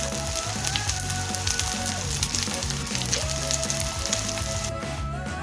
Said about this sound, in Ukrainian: Як приємно шкварчать.